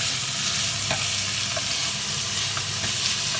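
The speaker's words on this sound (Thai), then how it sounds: "เราต้องผัดหมูใส่ที่พ ริก พริกกระเทียมใบมะกรูดข่าตะไคร้คั่วคั่วให้" Pork stir-fried with chili, garlic, kaffir lime leaf, galangal and lemongrass, a constant loud sizzle with scattered scraping and clinking of a spatula against the pan.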